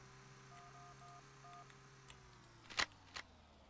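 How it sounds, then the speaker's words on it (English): A telephone ringing outside in the video game Sub Rosa: faint, distant short electronic beeps in a brief repeating pattern, followed by a couple of sharp clicks. "Boss, I hear a phone outside."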